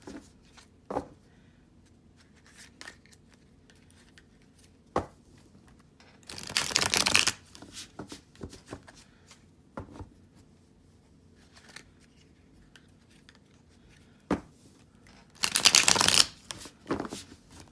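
Tarot cards are shuffled in two loud riffling bursts, separated by softer taps and handling clicks in a quiet room, with no one speaking.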